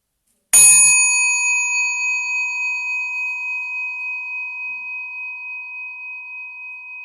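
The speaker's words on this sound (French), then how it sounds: "je vais faire sonner la petite cloche pour le début de la méditation" A small meditation bell is struck once, giving a bright, clear strike followed by a long, pure ringing tone that slowly decays with a gentle pulsing shimmer.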